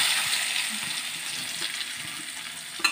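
Dried red chillies and onion frying in a pan, giving a steady, close hiss of hot oil with faint bubbling and small crackles throughout and a brief clatter at the end.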